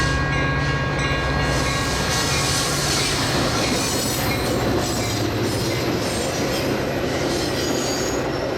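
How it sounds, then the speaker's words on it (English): A westbound Metra commuter train led by an F40PH locomotive rolls past in West Chicago, its steady loud rumble and rail noise filling the whole stretch with wheel squeal and faint clickety-clack, no horn sounded. "An F40PH leads this Metra train west."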